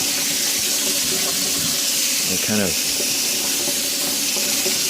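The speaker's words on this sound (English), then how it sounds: "if I get it wet with hot water" Hot tap water runs steadily while a vinyl record is washed by hand, a continuous close hiss and splash with a brief speaking voice partway through.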